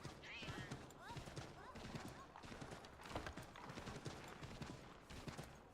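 Horse hooves clip-clop continuously in the video game Assassin's Creed III Remastered, a fast galloping rhythm mixed with game ambience and faint distant clatter, while someone talks over it.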